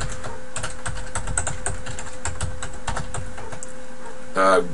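Fingers tap steadily on a computer keyboard while an email address is entered, quick irregular clicks close by, ending with a short louder burst near the end.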